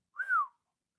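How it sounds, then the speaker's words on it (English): A single short whistle from a man, rising then gliding downward in one smooth breath, close and clear against silence. "Thornton whistled in amazement."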